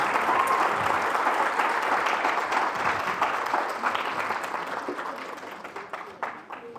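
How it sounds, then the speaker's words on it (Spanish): Applause at a lecture: a steady wash of clapping from a seated audience, fairly distant and even, slowly thinning and tapering off near the end. "vamos a darle un fuerte aplauso"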